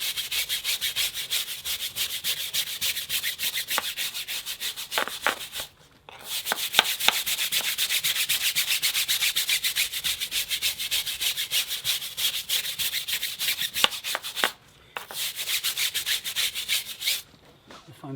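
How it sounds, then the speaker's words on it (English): Car wheel and tyre scrubbed with a stiff tyre brush, quick close rhythmic bristle rubbing in long back-and-forth runs broken by two short pauses. "We'll just give it another scrub with the Tough Shine tyre brush."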